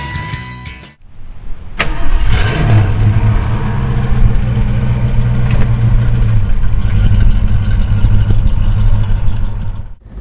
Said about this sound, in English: We're driving this beautiful 70 Mustang Convertible.